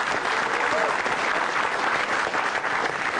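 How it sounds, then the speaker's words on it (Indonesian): Applause from an audience at a televised stand-up comedy show in Indonesia fills the room, a dense steady wash of clapping held at even loudness without a break. "langsung aja tepuk tangan yang meriah untuk Ihsan Nur Akbar."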